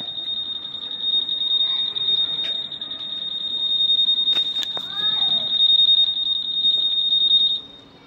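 A Honda PCX scooter's alarm: a loud, steady high-pitched tone beeps continuously for several seconds, then cuts off abruptly, with brief chirping and clicks partway through.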